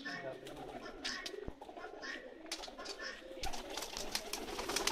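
Soft, repeated cooing of pigeons kept as racing birds, heard fairly faint with rustling and some background noise around it.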